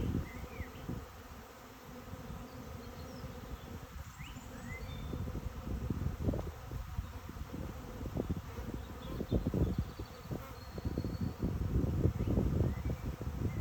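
A honeybee colony buzzing during a hive inspection near swarming, a dense continuous drone with individual bees zipping past close by, steady and moderately loud.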